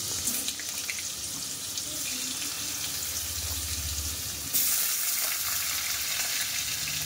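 Potatoes frying in oil with nigella seeds in a home kitchen, a dense close sizzling hiss that suddenly swells louder midway, with a low rumble and faint stirring.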